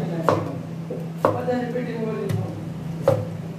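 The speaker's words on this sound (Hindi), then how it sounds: "अच्छा ये मतलब बड़े बड़े टुकड़ों में काट रहे हो ना?" A knife strikes a cutting board in four slow, separate chops, cutting vegetables into big pieces for chutney, with low murmuring and a steady hum underneath.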